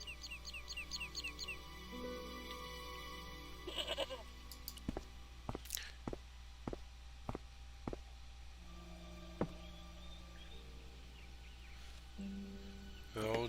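A goat in the Broken Sword video game lets out a few wavering, nasal bleats at the start, followed by a series of sharp, evenly spaced clicks and knocks over a quiet, low background hum.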